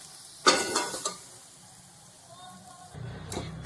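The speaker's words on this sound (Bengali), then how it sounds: "জলটা শুকিয়ে আসা পর্যন্ত আমি সিমটাকে নাড়ব" Green beans are stirred in a pan as their water cooks off, with a loud scrape and clatter near the start, a quiet low sizzle in the middle and renewed stirring at the end.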